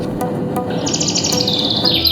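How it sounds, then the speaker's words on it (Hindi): Birds chirping in a dense, cold forest, a quick high trill of tweets rising over steady background noise, fairly close and clear. "उस पर पक्षियों की चहचहाट"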